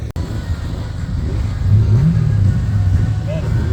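A white VW Golf 1 race car accelerates hard at a drag racing event, its engine note climbing through a loud, close pull, with voices talking over it.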